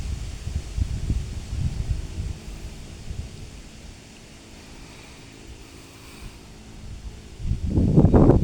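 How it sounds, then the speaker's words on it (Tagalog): Strong gusts roar in bursts outdoors, loud at the start, easing to a low hush in the middle, then surging again near the end with buffeting rush. "Ang lakas ng hangin."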